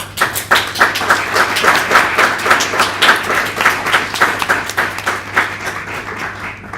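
Audience applause at a national assembly of a student network after a question round, a loud run of clapping with a distinct pulsing rhythm, as if many hands are falling into step.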